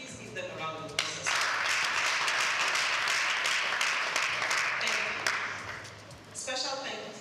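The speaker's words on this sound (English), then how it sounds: "Please give them a round of applause." An audience breaks into a sustained burst of applause that lasts about five seconds and then fades, with a speaker's voice heard just before and after it.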